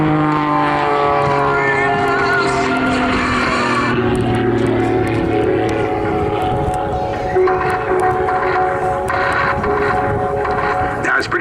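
A Pitts Special SC-6 aerobatic biplane at the Southport airshow, its engine droning steadily with shifting pitch as the throttle comes back on during a tumbling manoeuvre, loud and continuous throughout with faint crowd or commentary underneath.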